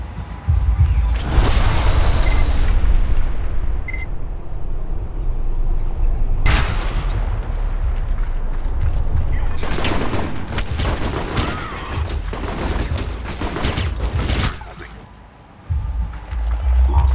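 Support gunfire in the video game Alpha Protocol, a loud sustained volley of rapid shots and bursts that runs almost unbroken for many seconds before a brief lull.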